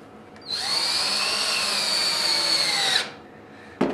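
A power drill drives a screw into oak, a steady high whine for about two and a half seconds that rises slightly in pitch before cutting off, close and loud, with a brief click afterward.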